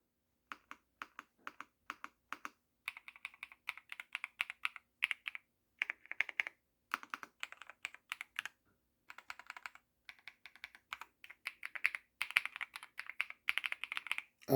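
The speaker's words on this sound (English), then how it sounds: "everybody loves to hear the sound that these keys make, especially the mechanical ones" Typing on a Royal Kludge R65 mechanical keyboard, close and clear: bursts of crisp rapid key clacks with short pauses between runs, nothing else in the background.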